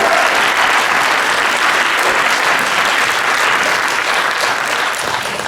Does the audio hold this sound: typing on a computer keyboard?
no